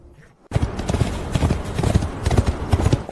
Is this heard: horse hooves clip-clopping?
yes